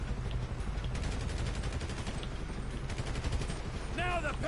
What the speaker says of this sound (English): Il fait que tirer.